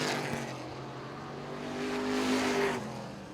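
Late model race cars racing at Baer Field Motorsports Park, several engines droning together at speed, swelling as cars pass close, with a steady roar throughout.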